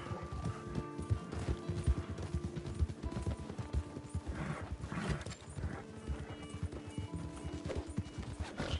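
Horse hooves clip-clop in a steady galloping rhythm with a brief whinny, up close and loud in the open-world Western game Red Dead Redemption 2, continuing throughout.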